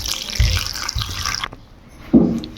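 Water is poured in while cooking a snack of grated raw potato and suji, a short splashing trickle with a couple of soft knocks and a brief gurgle at the end.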